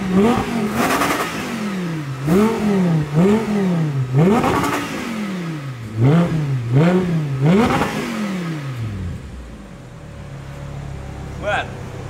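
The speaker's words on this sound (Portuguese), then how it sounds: "o ronco do meu carro é forte" An Audi S-Tronic sports car engine revs hard in a quick series of rising and falling blips, loud and close, then settles to a lower idle rumble as the revving stops.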